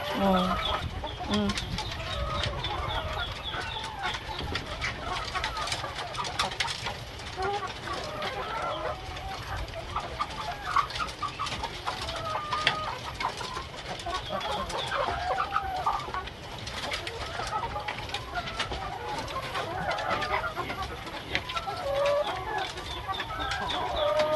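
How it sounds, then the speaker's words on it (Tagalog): Hungry, stressed RTL chickens cluck steadily throughout, a busy flock close by with overlapping calls and a constant background hum. "Gutom na din ang mga manok."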